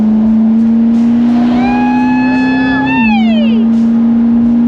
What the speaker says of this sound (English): throwing downshifts, do another one, a downshift.